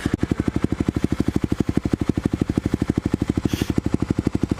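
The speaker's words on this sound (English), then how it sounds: "She's a real high-speed machine," A Kawasaki KLX dirt bike riding at close range, its single-cylinder engine pulsing in a fast, even, loud putter that holds steady throughout.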